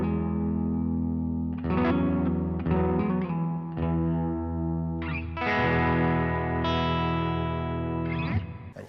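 An electric guitar plays through the Line 6 Helix King of Tone overdrive model, set with boost clipping and volume at 5, producing sustained, distorted chords and single notes with a few pauses between phrases, loud and alone.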